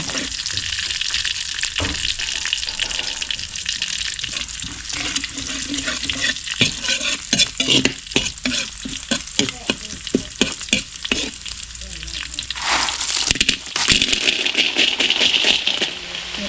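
Horse clams stir-fried in a pan give off a loud, continuous sizzle, with rattling shells and scraping stirring strokes, close up and busy throughout.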